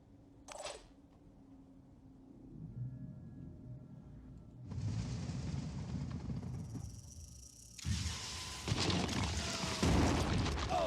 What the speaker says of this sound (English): we're going to take these two out with a missile